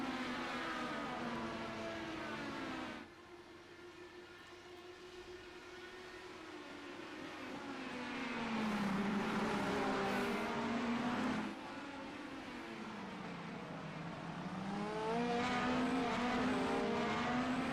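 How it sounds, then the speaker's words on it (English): Race cars lap the Long Beach Grand Prix street circuit in a racing series, engines passing in waves that rise and fall as they go by at moderate distance, with no talking. "clean opening lap from the top 6 to 7 as Mitchell Welker going to lead lap number"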